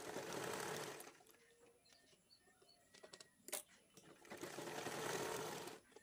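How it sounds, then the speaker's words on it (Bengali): Sewing machine stitching a waistband strip onto a blouse, running in two long bursts at the start and end with quieter handling noises between. "এইখানে নিচে কোমরের কাছে আমি পাট্টি লাগিয়ে সেলাই করে নিচ্ছি"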